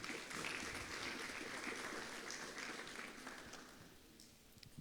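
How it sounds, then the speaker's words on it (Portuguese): A church congregation claps together during a Pentecost sermon service, a dense, steady round of applause that gradually thins and fades toward the end, with no voices over it. "Você pode dar mais uma salva de palmas a Deus?"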